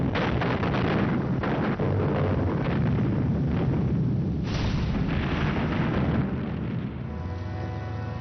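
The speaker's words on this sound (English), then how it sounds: "they were hit by a huge Soviet artillery bombardment" A massive Soviet artillery bombardment from July 1943 on the Eastern Front in World War II: dense, continuous rumbling booms and overlapping blasts, heavy and loud throughout, with several sharper bursts standing out.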